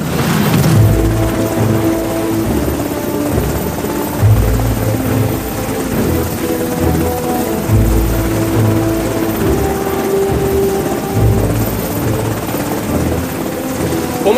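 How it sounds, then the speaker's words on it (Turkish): Helicopter in flight with a steady, loud rotor thump and engine drone filling the whole stretch, close and continuous, with no talk over it. "Komutanım, bugün bu helikopterdeyim ya."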